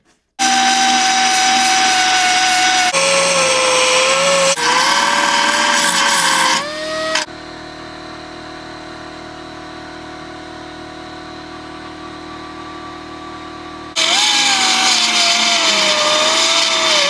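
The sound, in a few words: grinding down a car body panel on a 2020 Buick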